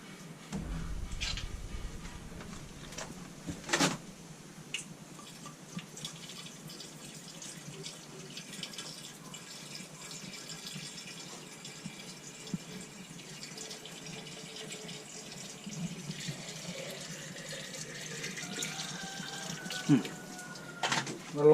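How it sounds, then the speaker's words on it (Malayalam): Water is poured into the radiator of a Tata tourist bus, a faint, continuous trickle broken by occasional knocks and clanks, with voices now and then. "വെള്ളം ഉണ്ടല്ലോ, എന്നാലും കുറച്ച് വയ്ക്കാം."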